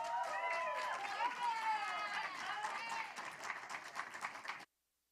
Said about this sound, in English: Clapping, keep clapping.